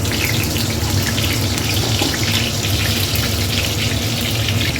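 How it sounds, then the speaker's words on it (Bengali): Bay leaf dropped into hot white cooking oil for a Bengali dudh shukto, giving a steady, close, bright sizzle and crackle of frying that runs without a break and with no talk. "তেল গরম হয়ে গেছে, তেজপাতা দিয়ে দেবো।"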